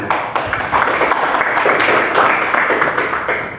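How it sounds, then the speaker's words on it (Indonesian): A crowd claps together in a dense, sustained burst of applause lasting a few seconds. "Ya, tepuk tangan."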